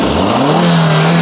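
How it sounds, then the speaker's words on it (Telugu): A 2021 Maruti Suzuki Ertiga ZXI petrol engine revs up on the accelerator, its loud, close drone climbing in pitch and then holding steady at a raised hum. "అన్న ఒకసారి యాక్సిలేటర్ ఇవా"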